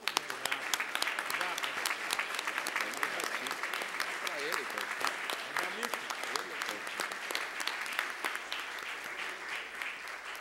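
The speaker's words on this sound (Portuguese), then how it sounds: "A esses dois, eu peço uma vibrante salva de palmas." A vibrant round of applause from an audience at a communication, ethics and sustainability event, dense rapid clapping sustained for about ten seconds, fairly distant and even.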